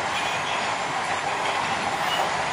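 A lorry locomotive runs along an old, long-disused rail track overgrown with banana trees, producing a steady, loud, continuous rumbling clatter throughout with no talking.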